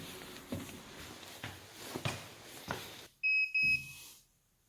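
An electronic door lock at a motel on Ganghwa Island gives two quick, high electronic beeps as a card is tapped, following a few soft handling clicks and knocks.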